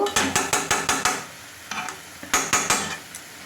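A utensil stirs chicken with masala in a pan, making a run of sharp, regular scraping knocks followed by a brief pause and another short burst of clanks, close and loud with no voices.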